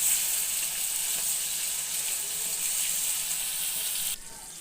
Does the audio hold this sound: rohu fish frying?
yes